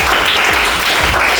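Applause for a student, a loud, close burst of many hands clapping together, dense and continuous from start to finish.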